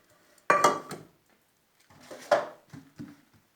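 Dishes and cutlery clatter and clink close by as they are washed by hand in a home kitchen, in two separate bursts of scraping and knocking with a quiet pause between them.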